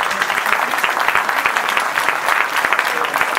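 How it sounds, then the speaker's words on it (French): Crowd at a 2018 New Year's reception in Pussay applauds a long-serving medal recipient. The clapping is loud and steady with no break throughout. "On peut l'applaudir"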